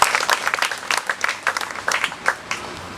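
An audience at a poultry scheme meeting in Enugu State claps hands in loud, close, uneven bursts with distinct individual claps standing out, continuing for a few seconds.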